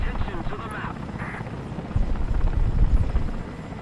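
A Mi-8AMTSh helicopter in the video game War Thunder flies with a steady, loud rotor thump and turbine drone, a constant chopping rumble, while someone talks over it.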